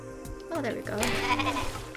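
Sheep bleat in a video game, "Rain on Your Parade," with a few wavering cries over background game music, moderately loud and close.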